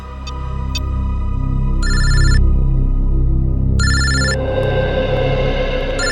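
A phone ringtone chirps in two bursts of repeated electronic tones over a low background hum, fairly loud and close.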